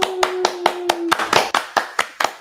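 A small studio audience gives a brief round of applause for podcast guests, about a dozen distinct, close hand claps in a loose rhythm with a faint tone sounding under the first half.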